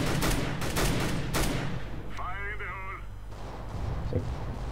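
Gunfire in Counter-Strike: Global Offensive comes as a fast burst of loud shots at the start, then quieter sporadic fire with a brief warbling game tone in the middle, and one more shot near the end.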